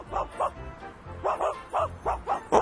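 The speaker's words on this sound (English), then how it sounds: "What are you guys barking at?" Dogs in the 101 Dalmatians animated storybook video game bark in quick repeated bursts, a run of mid-pitched woofs and yips coming in small clusters, with talk mixed in.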